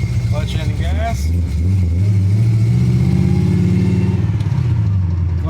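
An AMC AMX car with an EFI conversion revs up loudly close by, its engine note climbing and holding through several rising pulls while a person speaks over it.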